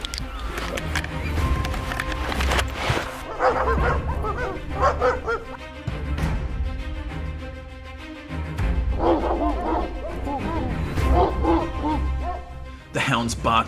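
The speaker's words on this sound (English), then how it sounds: "The hounds barked loudly" Hounds on a wild boar hunt in a Florida swamp bark loudly and repeatedly, mixing deep bays with high yips and whimpers, close and excited, with voices heard at times.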